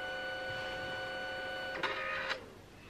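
A printer starting up and initializing its print engine gives a steady electronic whine with tonal hums, then two brief mechanical whirring bursts near the end, close by and alone.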